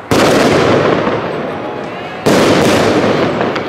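A large barracho firework goes off in a busy shopping street, giving two loud, sustained bursts of crackling blast noise, the second starting abruptly partway through, close and harsh.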